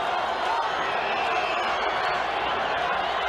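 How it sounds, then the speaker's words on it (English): A steady, dense roar of a large stadium crowd at a 1979 World Series baseball game, fans chanting "let's go Bucs" and blending into one continuous wash of voices without clear breaks. "Crowd chanting, let's go Bucks."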